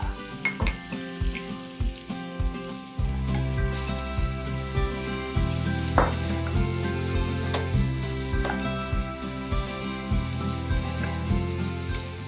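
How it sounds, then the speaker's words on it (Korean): Carrot, zucchini and oyster mushrooms stir-fry in a pan for a vegan bibimbap, a steady close sizzle broken by regular scraping and stirring clatter. "그리고 당근, 호박, 느타리버섯을 넣고 볶아줍니다."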